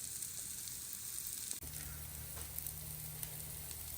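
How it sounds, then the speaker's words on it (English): Peppers and onions sizzle on a camp griddle with a faint, steady hiss and occasional soft crackles, close by and without talk. "I started getting a little char on my peppers there, and that is the sweet spot."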